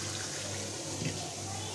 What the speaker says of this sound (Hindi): अब मैं इसको पानी डालकर 1/2 गिलास तकरीबन जितना पानी डाल के इसको हम दम पे रख देंगे